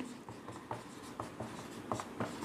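A pen or chalk scratches out a math equation in quick, faint, irregular strokes and taps, close and quiet with no voices.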